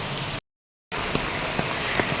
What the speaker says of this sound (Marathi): पण पाऊस जोरात सुरू आहे